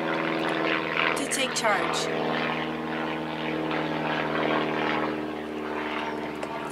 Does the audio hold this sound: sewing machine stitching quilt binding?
no